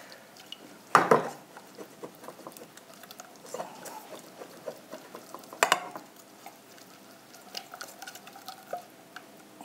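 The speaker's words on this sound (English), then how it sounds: "I want to give that one more whisk just to really get it mixed up" A whisk works through pineapple upside-down cake batter in a bowl: soft, scattered tapping and scraping with two sharper clinks against the side, close by and with no voices.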